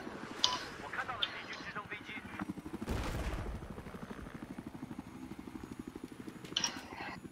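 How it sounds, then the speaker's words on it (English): Gunfire in a video game crackles in rapid bursts and scattered shots, mixed under excited voices talking over the action. "we're getting shot at"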